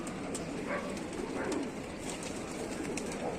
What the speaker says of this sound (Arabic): بص يا رجاله الحمام بيتعرف على بعض